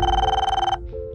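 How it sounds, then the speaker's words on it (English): A telephone bell rings in a rapid trilling burst, loud and close, then cuts off into quiet room tone. "And then, a phone call."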